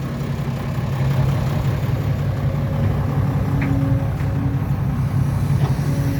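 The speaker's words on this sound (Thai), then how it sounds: "มีรถไถมาช่วยแล้ว รถไถมาแล้ว" A loud tractor engine idles steadily with a low, rumbling drone and a faint tonal hum, close by and without talk.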